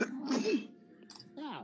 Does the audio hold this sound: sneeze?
yes